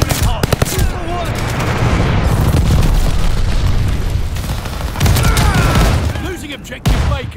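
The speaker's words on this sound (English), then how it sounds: "Allied airstrike from the top." Call of Duty: Vanguard multiplayer battle with an allied airstrike, a dense run of heavy explosions and gunfire rolling on for several seconds, loud and close, with a sharp blast near the end and in-game voice callouts mixed in.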